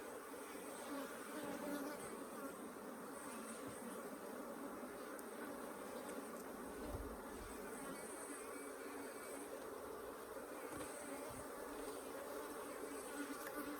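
Africanized hybrid honey bees swarming around an open hive in southern Arizona, a dense, steady buzzing drone that carries on without a break, with no voices over it.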